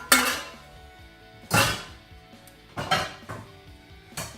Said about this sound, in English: So I'm going to get like a pan like this.